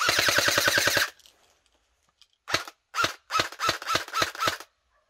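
A CSI XR5 S.T.A.R airsoft gun fires a rapid burst, falls silent, then lets off a string of seven sharp, evenly spaced single shots close by as the magazine is emptied.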